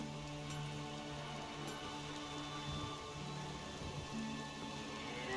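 Storm rain in The Witcher 3 video game, a steady, fairly faint wash of rainfall with faint background tones running evenly throughout, no talking.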